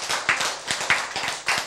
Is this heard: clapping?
yes